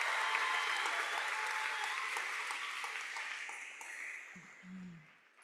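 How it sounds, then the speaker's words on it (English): Graduation audience applause for state champion high school athletes, a large crowd clapping steadily at a distance and slowly fading, with a brief voice near the end. "Let's give them one more big round of applause."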